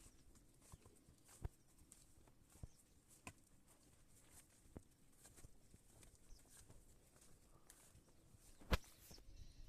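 Scattered, irregular hoof knocks and soft steps of cattle moving about, faint and somewhat distant, with quiet outdoor ambience between the sharper taps.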